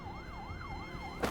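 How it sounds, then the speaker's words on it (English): A police siren in the video game Love and Deepspace wails in a steady rising and falling sweep, loud and continuous, with a short burst of noise at the very end. "As the piercing wail of police sirens grows closer"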